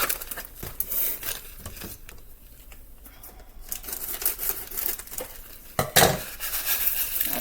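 Onion soup mix from a single packet being added to a mixing bowl for Salisbury steak meatballs, with close crinkling of the packet, light pouring rustle and a few sharp clinks of the bowl, no voices.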